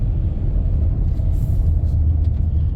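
A 2008 Dodge Grand Caravan SE minivan with over 445,000 miles drives along with a steady low engine rumble and road noise, close and continuous, with a few faint clicks.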